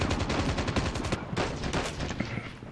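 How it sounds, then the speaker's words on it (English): Automatic gunfire in the mobile shooter game Call of Duty Mobile, rapid loud bursts of shots crackling in quick succession with a brief gap, close and dense throughout. "I think I ran into that guy's line of fire."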